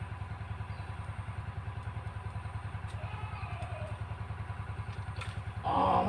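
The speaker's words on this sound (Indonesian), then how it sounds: "Agak sedikit ada suara diesel itu" A diesel engine runs steadily beside a rice field, its fast regular low thump continuing throughout at moderate level, with a brief louder clatter near the end.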